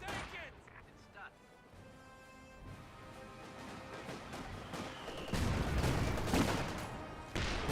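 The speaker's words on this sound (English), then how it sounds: "MG34 receiving fire from multiple sources." Gunfire and machine-gun bursts from an MG34 and a Vickers in a Company of Heroes 2 battle, dense and continuous, growing louder toward the end, with a commentator talking over the fighting.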